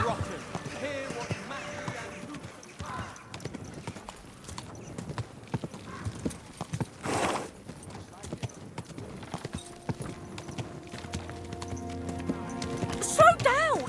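Horse hooves clip-clop in a steady rhythm through the medieval game Kingdom Come Deliverance 2, moderately close, with voices talking over them and a brief whinny-like flourish near the end.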